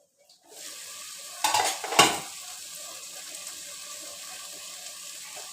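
Ingredients frying and being stirred in a pan while sambar is cooked, a steady sizzle with a couple of louder scraping, clattering stirs near the start, no talking.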